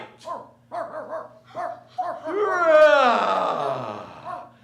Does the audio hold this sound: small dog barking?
yes